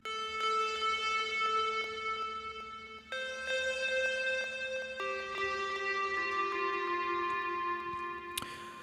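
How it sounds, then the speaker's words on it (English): A repitched square-wave synth lead with long reverb carries a melody of sustained notes that step between pitches, bright and sustained, with a sharp accent near the end. "this sort of weird lead sound that sits on top that kind of provides the main melody"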